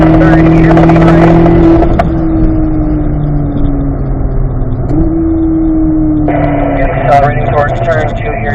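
A race car on a track accelerates through the gears with a loud, close engine whose droning pitch climbs, drops at each shift, then rises again, with a sharp rasp near the end.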